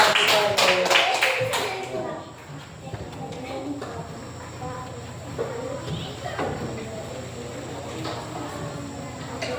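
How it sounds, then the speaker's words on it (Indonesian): Children in a classroom clap their hands in a quick burst of rapid, overlapping claps, then the clapping thins out under background chatter and scattered voices. "Iya, tepuk tangan."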